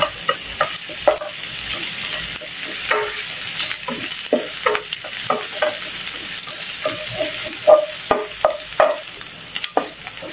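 Garlic sautés in a pan for Korean beef sesame, a soft sizzle under repeated clicking and scraping strokes of a spatula, close up and irregular, with no one speaking.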